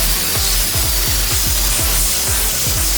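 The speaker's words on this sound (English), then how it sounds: "after grinding off the socket" Angle grinder cutting off a socket during a BMW X5 M50 rebuild, a loud, steady abrasive roar with rhythmic pulsing as the disc bites into the metal, continuous for the whole stretch.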